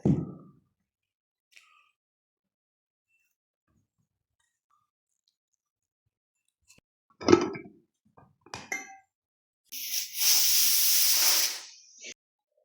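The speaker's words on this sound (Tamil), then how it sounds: "குக்கரை மூடிட வேண்டியது தான் ஒரு மூணு நாலு சத்தம் வந்துச்சுன்னா நல்லா குழஞ்சிரும்" A pressure cooker holding tuber cooked with jaggery and cardamom lets out a loud, steady burst of steam hiss lasting about two seconds. A few short clinks and knocks of kitchenware come just before it, after a long quiet stretch.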